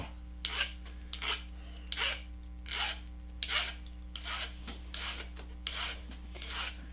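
Steady strokes of a hand file rasping against material, about ten evenly paced scrapes, close and crisp over a constant electrical hum.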